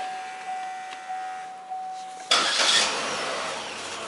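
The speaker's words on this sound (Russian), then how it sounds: "Запускай мотор." An Opel Astra J from 2010 cranks over with its starter after a few soft warning chimes, then catches and settles into a steady idle, close and clear.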